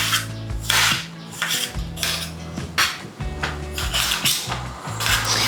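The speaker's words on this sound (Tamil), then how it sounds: "வெங்காயம் கட் பண்ண மாதிரியே தக்காளியும் வந்து நீளமாக கட் பண்ணிக்கிறேன்." A sharp kitchen knife slices tomatoes lengthwise on a board, making a series of crisp, evenly spaced cutting strokes close by over soft background music.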